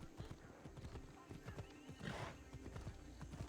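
Rapid hoofbeats clatter in a galloping rhythm, and a horse gives a loud whinny midway; the sounds have a slightly synthetic quality from the video game Assassin's Creed Odyssey.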